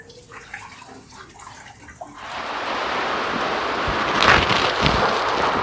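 Coolant drains from the cooling-system drain plug of a Mitsubishi Montero Sport, starting as faint trickling and swelling after a couple of seconds into a steady, close, rushing pour that continues alone to the end.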